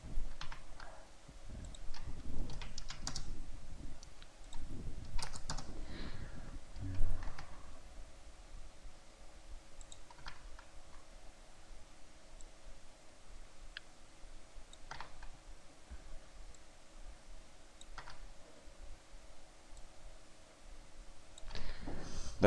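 Someone types on a computer keyboard, with scattered clicks and short bursts of keystrokes, busier at the start and then sparse taps, close but quiet.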